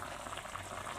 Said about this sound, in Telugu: చూడండి ఎలా ఉడుకుతుందో.